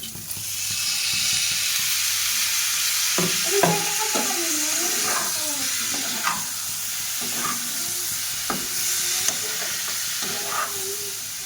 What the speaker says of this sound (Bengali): ফুলকপিটা আমি লাল লাল করে একটু ভেজে নিয়েছি, নিয়ে টমেটো আর পেঁয়াজটা মিক্সচারে বেটে নিয়েছিলাম, এটা দিয়ে দিচ্ছি।